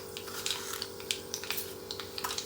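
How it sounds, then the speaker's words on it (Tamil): Mustard seeds crackle and pop in hot oil in a pan for an Indian fenugreek greens stir-fry, scattered sharp little spits over a steady low sizzle, close and fairly quiet. "எண்ணெய் சுட்டதும் கடுகு பொரிய ஆரம்பித்ததும் உளுந்தம்பருப்பு,"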